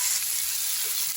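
Tomatoes, green chillies and capsicum stir-frying in a pan, a steady close sizzle throughout with faint stirring movement.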